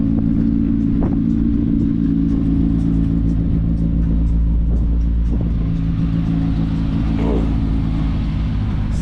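An older Volkswagen Mark 1 engine runs at a steady, deep rumbling idle close by, a continuous low drone with faint clicks and background noise throughout.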